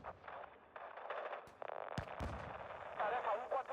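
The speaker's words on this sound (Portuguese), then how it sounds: "Contato, Shadow. Tá tomando tiro." Faint, distant bursts of Call of Duty gunfire and sharp cracks crackle under radio-style chatter and a busy battle background.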